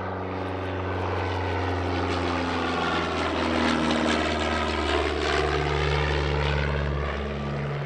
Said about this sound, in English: this is the Miles Gemini, the final Miles aircraft to have been produced in significant numbers